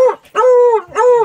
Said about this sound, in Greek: Πάψε Ρεξ, πάψε